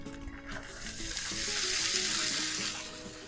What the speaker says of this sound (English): Blackstone's hot. We have it set to a low heat. We're going to put the veggies on here.